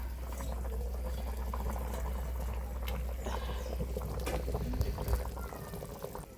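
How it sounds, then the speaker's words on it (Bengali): Water seasoned only with turmeric and salt bubbles in a cooking pot, a soft, continuous boil with scattered gentle pops that grow a little livelier toward the end. "বন্ধুরা কত সুন্দর টকবক করে ফুটছে"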